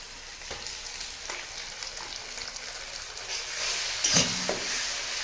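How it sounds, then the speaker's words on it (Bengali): Ginger garlic paste hits fried onions in a hot pan and sizzles steadily, a bright crackling hiss with a louder burst near the end and occasional stirring scrapes, close by. "পেঁয়াজটা ভাজা ভাজা হয়ে গেছে, আদা রসুন বাটাটা দিয়ে দেবো"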